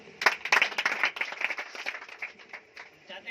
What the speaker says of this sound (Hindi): मैडम के लिए तालियां देते।